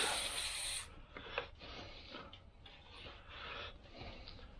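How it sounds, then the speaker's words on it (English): A short, loud hiss of WD-40 aerosol spray blasts into a dirty Jeep Pentastar 3.6 cam sensor port, then cuts off, followed by quieter rubbing and handling noises. "Gonna use some WD-40. Get in there, clean it out."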